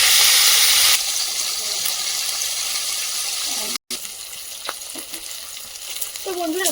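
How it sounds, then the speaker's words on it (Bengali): Rohu fish pieces drop into hot oil and fry with a loud, steady broadband sizzle, briefly cut off midway, then resuming with bubbling crackle and faint clinks near the end. "তো এখন দিয়ে দিচ্ছি মাছের পিসগুলো গরম তেলের মধ্যে।"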